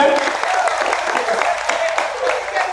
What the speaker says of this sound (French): Étudiants, applaudissez votre directeur, s'il vous plaît.